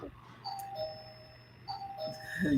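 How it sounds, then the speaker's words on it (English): A two-tone electronic doorbell chime rings twice, each ding followed by a lower dong, with a faint murmur of background noise between the rings. "You hear somebody ringing my bell?"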